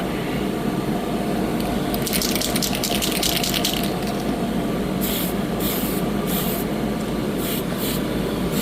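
A spray paint can hisses onto a plastic Gundam model kit in one long burst and then several short blasts, heard over a constant loud background rumble.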